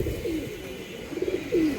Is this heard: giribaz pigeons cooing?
yes